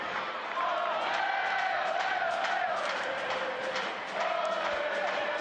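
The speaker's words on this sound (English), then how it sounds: "They're in their seats and just revved up." Stadium crowd at an evening soccer match at Al Lang in Tampa Bay, the Rowdies against Bethlehem Steel FC, a loud steady roar of cheering voices and shouts with no break throughout.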